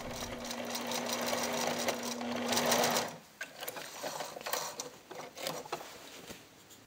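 Sewing machine stitching back over a pillow seam, a close, steady mechanical whirring that stops partway, followed by softer clicks and handling sounds.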